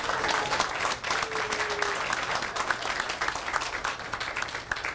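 A crowd applauds at an outdoor historical marker dedication ceremony, steady and full clapping throughout with a faint tonal whine passing underneath.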